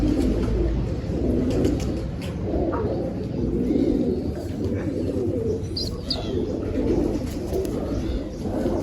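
Low, soft pigeon cooing rolls on continuously close by, with a few faint chirps scattered over the steady murmur.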